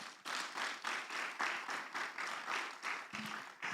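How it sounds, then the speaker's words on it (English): Conference audience applauds in a round of clapping, a fairly soft, steady patter of many hands with rhythmic swells, heard from a moderate distance without talk. "Let's give them a round of applause,"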